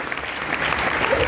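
Audience at a DXN success-story talk claps loudly, a thick continuous burst of applause filling the short moment.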